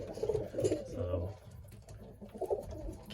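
Returned racing pigeons coo softly nearby in a loft, a few low rolling coos repeating over a quiet background.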